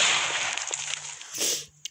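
A mini bomb exploding in a modded video game: a hissing, crackling fizz builds, then a short, sharp burst and a final small pop.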